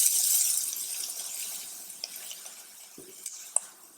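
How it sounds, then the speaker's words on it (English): Onions and pepper being stirred in a pan, a soft scraping swirl with faint sizzling and a few light clinks of the utensil against the pan. "I'm actually gonna stir it"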